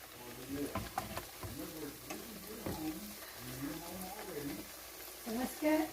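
Hashbrown steak and egg pockets crisp in a hot pan with a soft, continuous sizzle, faint and close, under quiet talk.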